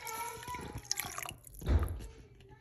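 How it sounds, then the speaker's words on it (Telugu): Water is poured into a pan on the stove while tomato rasam is being made, a brief splashing pour that builds to a fuller gush near the end, following a few light drips. "ఈ వాటర్ని ఇందులో పోసేసుకోవాలి"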